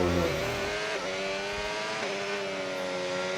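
A race car lapping a track in Las Vegas during practice, its engine roaring close and continuous with rising harmonic tones and a brief dip around each gear change.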